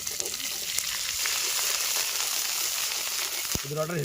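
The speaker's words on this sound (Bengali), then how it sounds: "জিরা, আর আদা বাটাগুলো নিয়ে নিলাম। এবার নাড়িয়ে নেবো," Cumin and ginger paste with dried red chillies being stir-fried in a pan, giving a steady close sizzle with light scraping, and a brief faint voice near the end.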